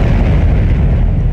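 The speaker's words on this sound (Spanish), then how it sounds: "un volcán hizo erupción" A volcano erupting produces a loud, deep, continuous rumbling roar, dense and heavy in the low end, sustained without a break through the short moment.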